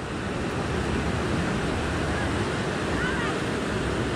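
Ocean surf washes onto a beach in a steady broadband roar with wind buffeting the microphone, continuous and fairly close.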